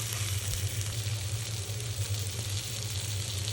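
Pointed gourd frying in mustard oil, a steady close sizzle with a low hum underneath, continuous and even from start to finish with no talk.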